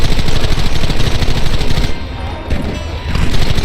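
Sustained gunfire from many guns in Red Dead Redemption, played on PC: dense, loud, overlapping shots and bursts that keep on without a break, dipping slightly for a moment before building back up.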